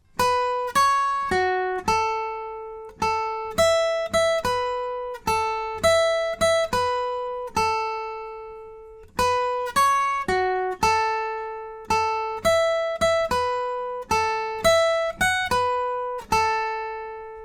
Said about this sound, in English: So the lead guitar for the chorus will just sound like this.